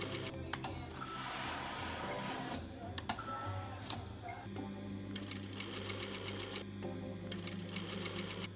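A sewing machine stitches a dust mask in short, rapid ticking bursts, quiet and close, with soft handling noises between runs.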